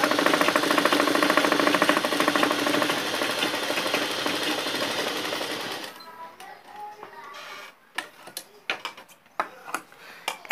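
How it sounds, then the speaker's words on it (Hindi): An electric sewing machine stitching a girl's short jacket runs steadily and loudly for about six seconds, then stops, leaving scattered light clicks and handling knocks close by. "फिर इसके बगल में भी हम चला लेंगे सिलाई।"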